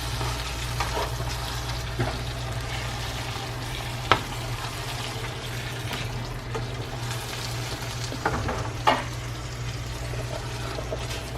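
Salt mackerel stirred into gravy in a pot gives a soft, steady simmering sizzle with a few faint scraping knocks from the spoon against the pot.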